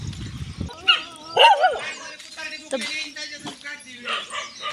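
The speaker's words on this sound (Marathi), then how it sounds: "गावाकडे एवढे कुत्रे पण असतात असे भुकतात" Village dogs bark in short, sharp bursts and yips, several dogs overlapping near and farther off, while a person talks over them.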